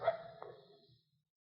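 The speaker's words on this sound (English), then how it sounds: "That's just a coyote." A lone coyote gives a short, distant-sounding yip and bark that fades out within about a second, thin and faint.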